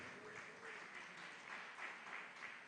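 A church congregation applauds together, a steady wash of clapping that sounds distant and faint and holds evenly throughout.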